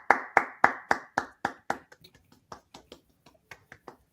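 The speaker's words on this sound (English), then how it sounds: "Round of applause." A few people clap in a short round of applause, sharp distinct claps starting strong and quickly thinning into scattered, quieter hits; close and dry, with no talking.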